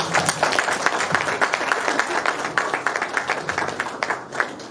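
An audience at a credit-insurance award ceremony claps steadily, a dense burst of applause from a nearby crowd that fades out toward the end, with no talk over it.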